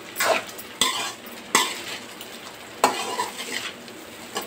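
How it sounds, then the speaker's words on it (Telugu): Vegetable lemon rice being stirred in a pan, with spoon scrapes and clinks striking the metal roughly every second over a low sizzle, close and clear with no talking. "ఉప్పు కూరగాయలన్నీ కలిసేలాగా కలుపుకోవాలి."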